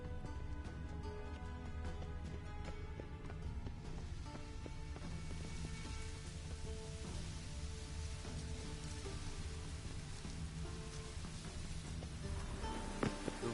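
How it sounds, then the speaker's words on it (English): Steady rain falling over city streets in The Witcher 3: Wild Hunt: a dense, even patter of drops on hard surfaces, continuous and moderately faint, with a soft layer of game ambience beneath and no talk. "The rain will cleanse the city's streets of filth."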